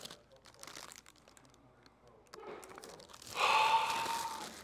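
Crinkly plastic packaging around a new Fujifilm X-H2S camera being handled and unwrapped, quiet rustles and breaths building to a louder burst of crinkling near the end.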